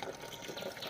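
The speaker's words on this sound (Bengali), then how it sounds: "জল ভরা হয়ে গেছে।" Water pouring steadily into a container being filled for watering plants, a continuous close splashing gush lasting the whole brief moment, with no talking.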